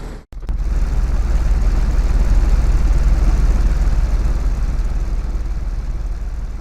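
A supercharged Lotus Elise in a racing game idles steadily after a brief start blip, a low, even rumble that stays loud and constant throughout.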